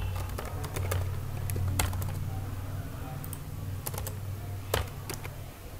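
Keys tapped on a computer keyboard while filling in first-name details on a Hotmail sign-up form, a steady run of light clicks close up with a few sharper strokes, no voice.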